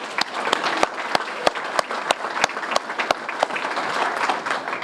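An audience at a Kiwanis club meeting gives a round of applause, steady clapping from many hands close by, with a few sharp individual claps standing out.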